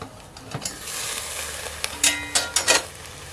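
Lamb shanks sear in a hot pan on a CampQube camp cooker, a steady sizzle running throughout with several sharp scraping and stirring clatters near the end.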